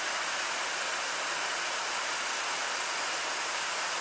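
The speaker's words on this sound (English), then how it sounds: "So this is Sherrod Falls on the waterfall way coming out of Dorrigo towards Coffs Harbour." Steady broadband rush of Sherrod Falls, a roadside waterfall on the Waterfall Way near Dorrigo, Australia, heard close and continuous with no talk.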